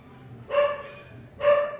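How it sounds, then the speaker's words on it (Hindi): A dog gives two sharp barks about a second apart, fairly close and clear, with quiet background between them and no speech. "इस वजह से इसको देखे मेरा भी कुत्ता भौंकने लगा"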